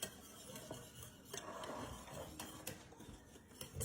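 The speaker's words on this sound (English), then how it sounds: "To this I'm going to be adding 2 cups of milk. Giving that a whisk." Milk being whisked in a bowl for a chicken pot pie batter, faint metallic taps and light scraping strokes at an irregular pace, close and quiet, with no talking.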